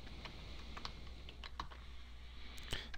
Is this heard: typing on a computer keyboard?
yes